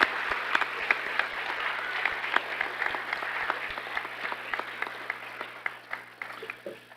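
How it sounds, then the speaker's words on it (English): Audience applause fills an auditorium at a school awards night, a moderately loud wash of clapping with distinct individual claps standing out, gradually thinning toward the end. "Let's give them a big round of applause."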